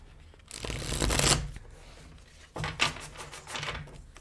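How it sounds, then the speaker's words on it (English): Tarot clarifier cards being shuffled by hand in two riffling bursts, a longer flurry followed by a shorter one after a brief pause, close and fairly soft, with no talking. "So I'm going to pull some clarifier cards here."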